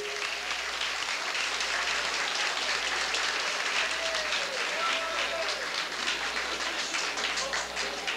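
A crowd applauds a queen being crowned for 1971, Monique Landry, sustained broad clapping at a fair distance with a low steady hum underneath and faint voices mixed in.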